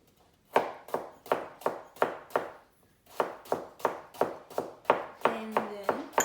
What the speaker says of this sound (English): While I keep chopping up these apples here.